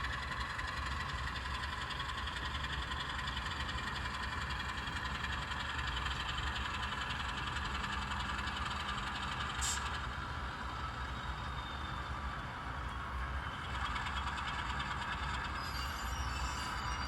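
A train rolls steadily past as it crosses Grassy Fork, a continuous rumble of rail cars and engine with a faint squeal near the middle.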